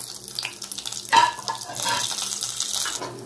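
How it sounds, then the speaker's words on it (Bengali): Cashew nuts frying in two spoonfuls of ghee, a steady close sizzle with light stirring and scraping, one sharper clink near the middle. "ঘি দিয়ে দিলাম, দু চামচ ঘি দিলাম, কাজু বাদামগুলো ভেজে নেব।"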